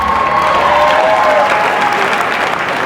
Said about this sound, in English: Give a round of applause for that man, champion of last year, Guy Dupuis.